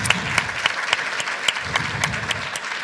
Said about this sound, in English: please give her a round of applause as she makes her way